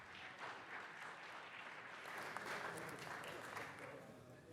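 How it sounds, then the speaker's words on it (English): Applause from colleagues at a Friday city council meeting fills the chamber, a steady wash of many hands clapping at moderate distance for the whole stretch, with a slight swell near the middle. "One more round of applause"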